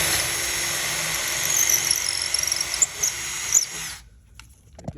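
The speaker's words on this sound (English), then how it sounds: "I'm gonna go in there and pre-drill my hole at that angle." A handheld power drill whines steadily at high pitch while pre-drilling an angled screw hole to mount a woven wood shade, loud and close for about four seconds before stopping abruptly, followed by faint handling noises.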